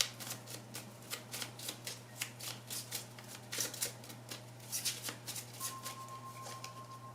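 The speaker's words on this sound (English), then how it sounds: "I'm going to go ahead and pull a question card for you." An oracle card deck is shuffled close up, a steady run of soft riffling card flicks in quick rhythm, quiet and alone over a low background hum.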